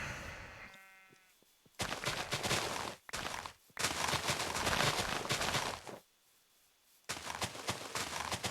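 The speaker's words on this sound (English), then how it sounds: "A sheepy." Minecraft sheep bleat once, a short wavering call at the start, followed by bursts of loud noisy in-game sound with gaps of near silence between.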